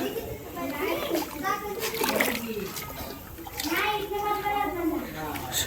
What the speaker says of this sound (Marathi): आपण टाकणार आता पाण्यामध्ये एक एक